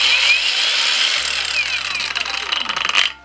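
A REVOLT cordless angle grinder spins up with a soft start, its loud high whine ramping steadily for about three seconds, then cutting off abruptly at close range.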